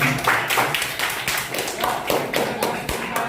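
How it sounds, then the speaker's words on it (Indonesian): Audience clapping at a church or classroom gathering, a short burst of uneven claps with thuddy taps, fairly close and lively, with a voice briefly in the mix. "Tepuk tangan dong buat dia hari ini misalnya"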